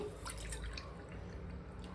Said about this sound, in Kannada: ಅಕ್ಕಿ ತೊಗೊಂಡಿರೋ ಬೌಲಲ್ಲಿ ನಾನು 2 ಬೌಲಷ್ಟು ನೀರು ಹಾಕೋತೀನಿ